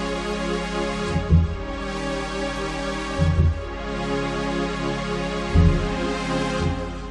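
A Korg Wavestation analog strings patch holds a full, sustained chord throughout, with soft low pulses thumping underneath at irregular intervals.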